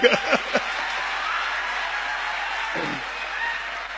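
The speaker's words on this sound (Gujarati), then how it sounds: "જોરદાર તાળી પાડો" Audience applause at a live talk: steady, dense clapping fills nearly the whole stretch after a few short vocal sounds at the start, with a brief voice briefly audible partway through.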